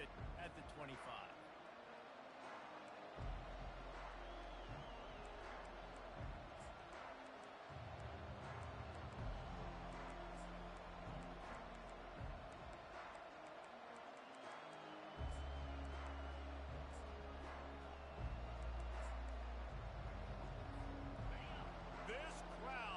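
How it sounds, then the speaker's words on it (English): Big football stadium crowd at an Oregon versus Alabama game roars loudly and steadily under play-by-play commentary, with swells and thumps through the noise. "This crowd, full throat, spreading the eardrums and letting them know it's going to be a long day."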